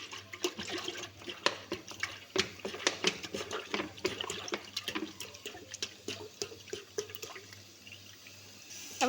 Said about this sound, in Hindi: 2 लीटर हम लोग पानी ऐड करेंगे